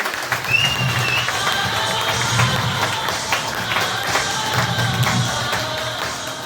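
A crowd applauding together in a dense, steady wash of clapping that carries on throughout, with faint voices mixed into the noise.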